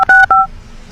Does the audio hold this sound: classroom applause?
no